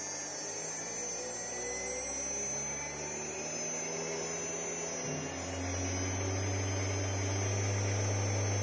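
A Fanuc spindle on a CNC mill, driven by a Chinese VFD, whirs steadily and then ramps up in pitch to a louder, higher whine near the end.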